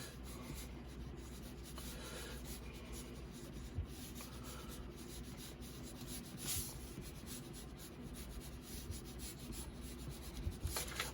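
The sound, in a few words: drawing a stick figure on paper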